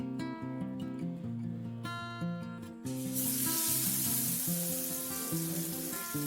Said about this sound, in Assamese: এয়া বেটাৰ লগাই এতিয়া তেলত দি দিম।